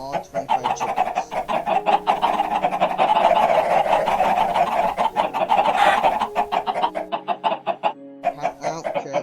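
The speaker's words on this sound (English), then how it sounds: "And then spawns in all 25 chickens." Flock of 25 chickens spawned on a video game farm, a busy overlapping chorus of clucks and squawks, fairly loud and close, thinning into separate rhythmic clucks toward the end.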